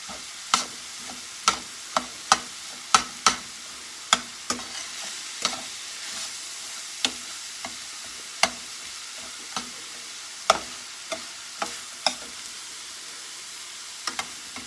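Stovetop stuffing ingredients cook in a pan with a soft, steady low sizzle, punctuated by sharp intermittent clicks and taps of a utensil against the pan, close and without talking.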